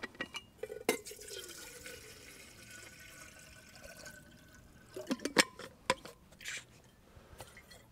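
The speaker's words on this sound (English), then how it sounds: "So first off, we put some water in it." Water splashes and trickles into a titanium kettle in uneven bursts, with a few louder sloshes toward the end, close by.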